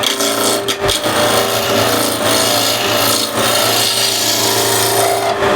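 A skew chisel takes a peeling cut on a small, cracked piece of wood spinning fast on a lathe, giving a loud continuous rasping scrape over the machine's steady hum, with a brief dip near the start.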